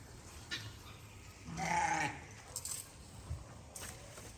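Goats and sheep in a small farmyard herd in Ghana, with one clear bleat in the middle and fainter calls around it over outdoor background noise.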